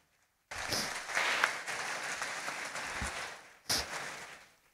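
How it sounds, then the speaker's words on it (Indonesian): A crowd at a school gathering bursts into applause for a class, a dense clapping that rises sharply, holds for a few seconds, then briefly swells again before fading out. "Beri tepuk tangan untuk kelas 3."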